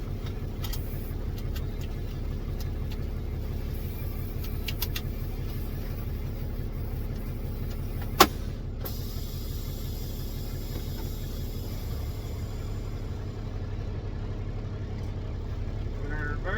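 A car engine idles and drives with a steady low rumble throughout, close and moderately loud, with a single sharp click midway.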